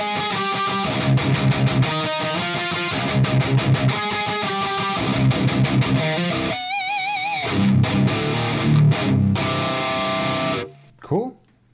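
Distorted electric guitar through an STL Ignite amp plugin and a Randall 4x12 cabinet loaded with Vintage 30 speakers, miked with an MD421, playing chugging palm-muted riffs and sustained chords, loud and dense, ending with a short ringing tail.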